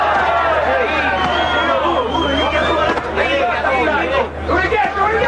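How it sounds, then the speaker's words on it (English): A large indoor boxing arena crowd at capacity in Saint-Tropez murmurs and chatters steadily, a dense hum of many distant voices with no single speaker standing out. "Capacity crowd here in Saint-Tropez. They are not the noisiest crowd you've ever heard."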